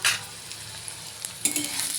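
Onion and garlic sizzle in hot oil, a steady close hiss with a faint scrape of a utensil near the end, with no voices.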